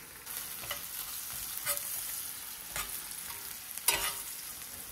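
Sliced onions fried to golden brown in a pan with turmeric added, a soft sizzle under intermittent scraping stirs of a spoon, close and fairly quiet, no talking.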